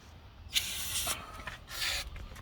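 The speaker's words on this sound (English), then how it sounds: "I'm gonna hit it with the carb cleaner. Through each port." Carb cleaner is sprayed through the ports of a small-engine carburetor from handheld gas-powered equipment, giving two distinct hissing bursts about a second long each, close and moderately loud with no speech.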